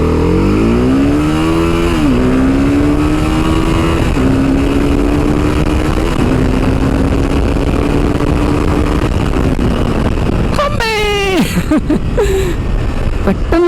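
A 2025 TVS Apache RR310 motorcycle pulls away and accelerates hard, its engine note climbing through several gears in a loud, close, continuous roar before a sharp high rev near the end.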